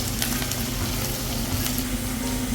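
Onion, green chilli and garlic sizzle steadily in a pan, a dense, even crackle of frying that holds loud and close for the whole stretch with no pauses and no voices.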